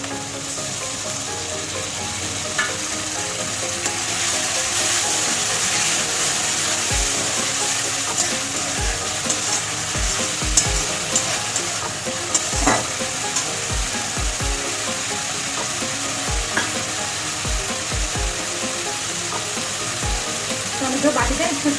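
Tomato paste sizzling and frying in a pan for an egg dish, a steady hiss with light scraping and stirring knocks scattered throughout, with speech at times.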